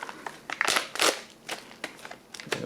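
A smashed oatmeal cookie inside MRE packaging from a beef macaroni ration is handled, giving irregular crinkling and crunching bursts of plastic wrap, close and fairly loud, with brief pauses between.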